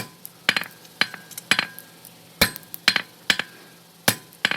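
Rounding hammer striking hot steel on an anvil while forging a fork at a smithing training center, a loud series of sharp ringing metallic blows in an irregular rhythm, about ten strikes with short rebounds and clear echoing ring.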